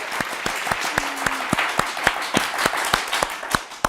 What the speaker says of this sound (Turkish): Herkes alkışını alacak.